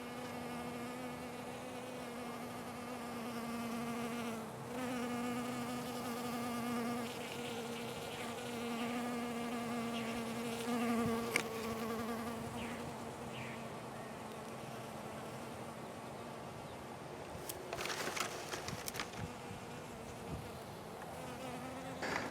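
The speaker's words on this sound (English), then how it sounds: "Again, we got a bee right there." Honey bees buzz steadily around an 8-frame hive box outdoors near flowering Brazilian pepper, a continuous droning hum with a few closer passes and brief knocks near the end, with no talking.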